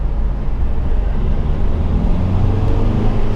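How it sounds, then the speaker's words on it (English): A diesel car rolls through the Monaco tunnel on the Formula One circuit, its engine a dense, steady low rumble booming off the enclosed walls, loud and close with no talking. "We're in the tunnel. Let's see what this diesel sounds like."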